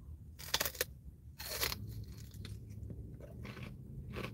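Close crunchy bites into Wingstop chicken wings, a few sharp crisp crackles followed by quieter chewing at close range, with no talking.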